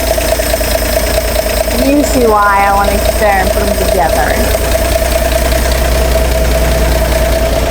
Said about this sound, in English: Idling just perfect.